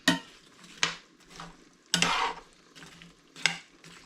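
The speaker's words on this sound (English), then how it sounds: "Give it a quick stir." Seasoned vegetable mix being stirred in a pot for chicken pot pie, with four distinct scraping, clattering strokes of a utensil over a soft background sizzle, close and moderately loud.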